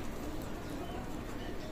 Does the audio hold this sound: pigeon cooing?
yes